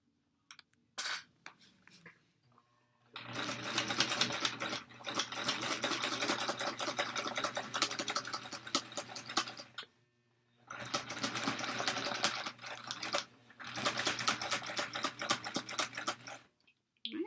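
A sewing machine back-stitching a tote bag, two long bursts of fast, even stitching separated by a brief pause, close and clear, with a few short taps before the first run.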